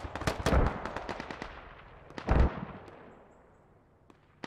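Mortar and gunfire in a Squad-style video game battle on the Narva map: two sharp blasts, one at the start and another about two seconds later, each with a long rolling tail, plus scattered smaller shots.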